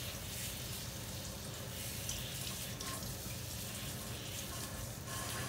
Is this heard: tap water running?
yes